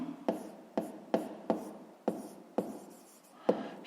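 A pen or pencil writes on paper during a school maths exercise, close scratchy strokes broken by regular taps roughly every half second, with no voices.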